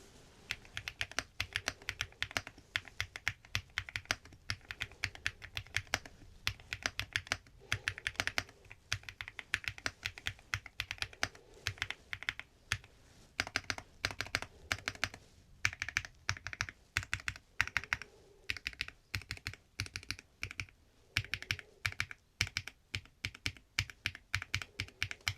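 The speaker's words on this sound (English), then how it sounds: "Now, I'm going to do a typing test for you so you can hear how this sounds." Steady typing on a Womier ERA75 wireless aluminium mechanical keyboard with a PC plate, quick close clacky keystrokes in continuous uneven bursts, with no talking.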